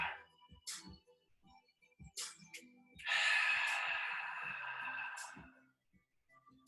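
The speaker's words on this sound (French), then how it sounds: "Inspire et expire. Inspire et expire. Inspire et expire." Breathing during a Pilates exercise: a few short, close breaths followed by one long, airy exhale lasting about two seconds, then quieter breaths, with no talking.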